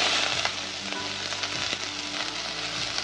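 Onions frying in a pan with mustard seeds, a dense, continuous crackling sizzle with occasional pops and spits, close and steady throughout.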